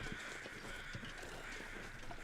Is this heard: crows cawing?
yes